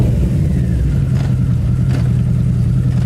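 A motorbike engine rumbles loud and close with a deep, steady throb, with brief bursts of revving partway through, and no voices.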